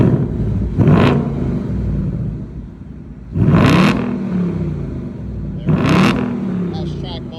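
Ford Mustang GT with active exhaust in track mode, valves fully open and no X pipe, revving in three loud, sharp bursts about every two and a half seconds, each rising then settling into a deep rumbling idle.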